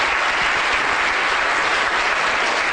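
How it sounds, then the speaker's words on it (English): Dense audience applause for volunteers at a brain lecture, loud and continuous with no pauses, close-sounding hall clapping throughout. "Round of applause for our guests."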